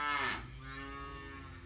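A single drawn-out moo from young cattle on a UK dairy farm, close and clear, sliding down in pitch and holding steady before fading, with no talking.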